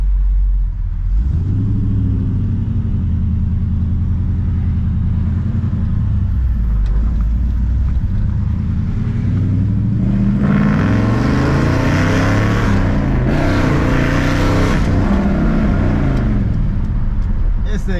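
A 1965 Chevrolet Malibu SS with a 283 V8 rumbles on a test drive, the engine note climbing as it accelerates, dropping back, then revving hard again with rising, throaty roars heard from inside the car.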